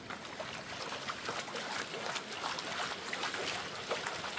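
Water sloshing and swirling in a gold pan filled with two shovelfuls of unclassified material, a short run of irregular splashy wash at moderate level with no voices.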